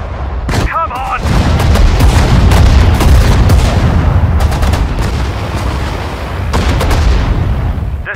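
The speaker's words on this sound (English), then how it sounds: "Artillery, fire!" Artillery and gunfire rumble through a battle in the Sudden Strike 4 video game, with loud sustained booms and sharp cracking shots and a brief voice shouting near the start.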